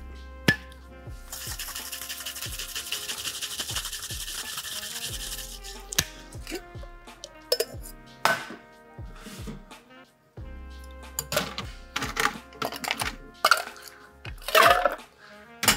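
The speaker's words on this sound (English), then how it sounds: "they've called for dry shaking just to incorporate that" Ice rattling in a cocktail shaker during a dry shake of a coffee cocktail with cheesecake batter: sustained, fairly quiet rhythmic rattling in two long bursts, with scattered knocks and clinks between them.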